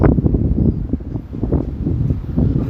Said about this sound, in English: Yeah, it's pretty windy here.